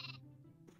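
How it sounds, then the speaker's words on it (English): A sheep bleating in Minecraft, one short faint bleat followed by a brief second call, alone without talk. "Sheep! Sheep! Oh, it has a baby."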